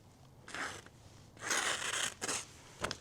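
Sharpened knife slicing through paper in a few quick scraping, rustling strokes, close and fairly quiet, with short pauses between cuts and no voices.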